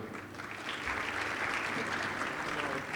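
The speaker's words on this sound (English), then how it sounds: "A round of applause for Haider, everyone." Audience clapping at an entrepreneurship festival in Sharjah as a guest joins the stage, a soft, distant-sounding spread of many hands that swells slightly and stays steady for a few seconds.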